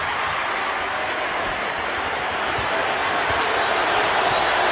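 Basketball arena crowd at a Georgia vs Kentucky game rising to its feet late in the game, a loud sustained roar of cheering that holds steady and swells slightly toward the end.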